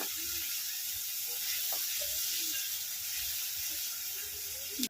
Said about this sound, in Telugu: ఉల్లిపాయలు త్వరగా ఫ్రై అవ్వాలంటే కొద్దిగా ఇలా సాల్ట్ వేసి వేయండి